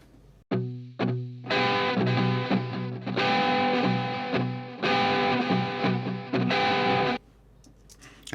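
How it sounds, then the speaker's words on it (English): A lead electric guitar track, distorted with a chorus-like effect, plays on its own in loud, sustained phrases broken by short pauses and a few sharp opening stabs. "It's the same track that the lead guitar was on at the beginning, so it's gonna sound the same"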